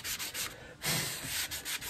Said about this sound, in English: Just using a little bit of sandpaper here to just make sure that there's no lip on the neck